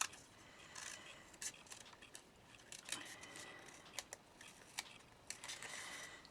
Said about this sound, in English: I find it's easy to do this with a small pair of scissors if you've got one.